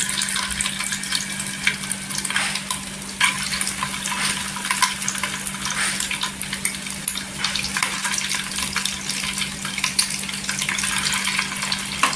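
Boiled eggs fry in hot oil for a dhaba-style egg curry, giving a loud, steady, dense sizzle that runs without a break and has no voices over it.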